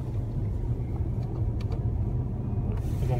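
A Tesla 70D on autopilot cruises along a winding secondary road, a steady low rumble of road and tyre noise heard from inside the cabin, with brief faint clicks.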